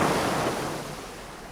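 Rushing water from a highland burn with waterfalls on the Isle of Mull forms a steady broadband roar. It is fairly loud and easing slightly over a second and a half, with no voices.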